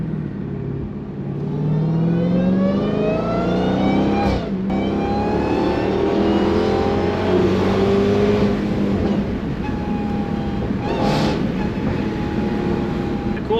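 Dodge Hellcat V8 fitted with a Valvetronic Designs valved sport exhaust, revved loudly and close by: a deep rising roar climbing in pitch, a sharp blip near the middle and another quick rev toward the end.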